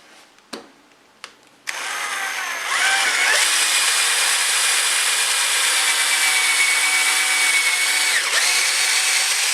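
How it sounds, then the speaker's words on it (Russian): A few sharp knocks, then a power drill spins up and bores steadily into wood for a confirmat screw while assembling a wall shelf, a loud continuous whine with a brief pitch dip near the end. "Делаю сверловку под конфирмат."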